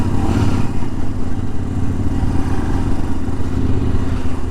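A Royal Enfield Scram 411 motorcycle riding along, its steady engine drone and road rumble loud and continuous throughout, with no talking.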